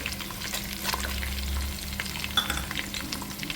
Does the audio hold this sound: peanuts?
yes